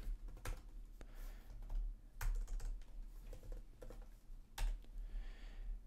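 Fingers type on a computer keyboard in quick, uneven bursts of close, soft key clicks, with a few louder taps and short pauses between words.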